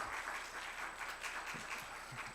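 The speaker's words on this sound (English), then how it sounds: "Can I give Dr. Cafferky a round of applause" A seminar audience gives a round of applause, quiet and somewhat distant, a soft patter of clapping hands that continues evenly throughout the short clip.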